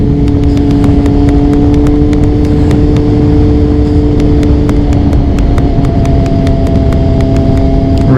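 A 2000 Kawasaki ZX6 sport motorcycle engine holds a steady high idle with a droning tone, loud and close, with a sharp ticking clatter throughout and no voices.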